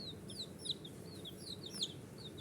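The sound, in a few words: chicks cheeping while playing in a tub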